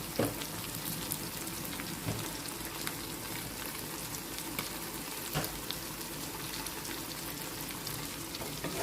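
Mutton and raw mango curry with rock salt being stirred in a pan: a steady, close sizzle with light scraping and occasional soft knocks throughout.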